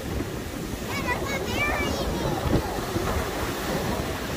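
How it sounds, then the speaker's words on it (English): Ocean surf washes onto a beach at Myrtle Beach at night as a steady, rolling roar mixed with wind buffeting the microphone, while a voice talks briefly over it. "Look at the ocean, Ellie. Look how dark it is."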